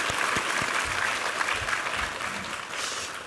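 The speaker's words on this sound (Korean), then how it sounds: "우리 하나님께 감사와 영광의 박수 올려드리겠습니다" A church congregation claps together at a Sunday service, a full, steady round of applause from many hands, close and loud, with a few heavier thumps underneath.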